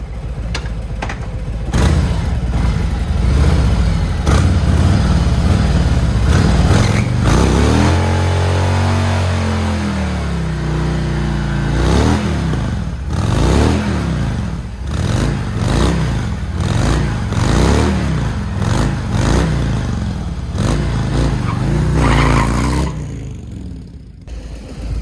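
A 2021 Harley motorcycle roars loudly through a long burnout, its engine revving in repeated rising and falling surges amid scraping tire noise, close and continuous before tapering off at the end.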